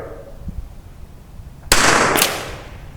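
A Tikka rifle fires one sharp outdoor shot at a match stick target, a sudden loud crack with a brief rolling echo and a second faint report following closely, after a stretch of quiet background.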